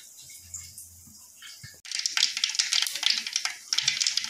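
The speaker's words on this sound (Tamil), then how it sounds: "கடுகு நல்லா பொரிஞ்சு வந்துடுச்சு" Mustard seeds dropped into hot oil, a quiet lead-in followed by a sudden loud burst of spattering, crackling sizzle that keeps popping steadily, close up.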